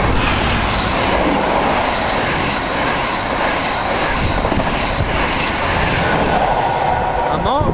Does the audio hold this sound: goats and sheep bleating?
no